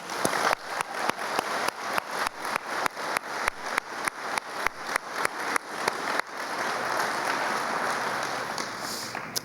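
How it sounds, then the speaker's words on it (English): Scattered audience claps at a 2017 sustainability business awards ceremony, a series of sharp individual hand claps giving way to a steadier wash of applause, moderately close and heard alone without speech. "So applause to all of you."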